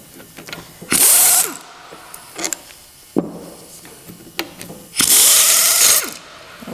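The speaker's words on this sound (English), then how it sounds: "I'll just use the impact here and remove these 4 bolts along here." Impact wrench on a Farmall Cub tractor, loosening bolts in two loud sustained whirring bursts about four seconds apart, with lighter ratcheting clicks and tool handling in between; no talking.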